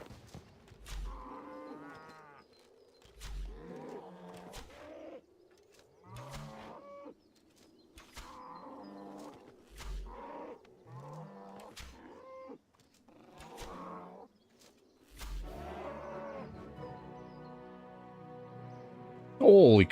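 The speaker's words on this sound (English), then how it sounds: "It's a super cow." Super cow from RuneScape 3 mooing in a string of short, repeated low calls with game music underneath, ending in a louder burst of sound.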